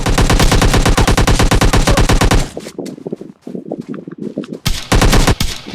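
Automatic gunfire in PUBG Mobile Lite: a long, loud rapid burst, then a pause with a few scattered shots, and another heavy burst at the end.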